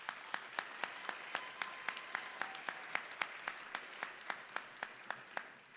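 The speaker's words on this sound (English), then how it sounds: "Give yourselves a round of applause." Steady rhythmic clapping, evenly spaced claps repeating for several seconds, fairly faint and distant, like an audience at a university convocation applauding in unison.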